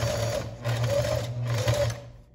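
A sewing machine stitches a cotton tea towel with trim in close, loud rhythmic bursts of needle chatter over a steady motor hum, easing off at the end.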